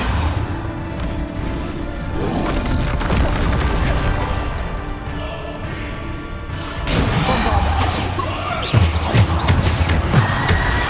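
Bombarda spell explosions in Hogwarts Legacy, heard as a busy run of crashing booms and impacts over dense game sound, with a louder burst of blasts in the second half.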